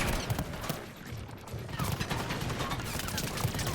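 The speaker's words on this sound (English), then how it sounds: "I'm being shot at in every bloody direction." Dense, continuous gunfire from all directions in a Mass Effect battle, sharp cracks and bursts layered over a busy combat din with a voice talking faintly underneath.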